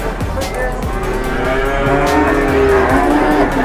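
Cattle low at a large cattle market in Boyolali, where Simmental, Limousin, Javanese and dairy cows are mixed together, with several overlapping moos over a dense, busy crowd background.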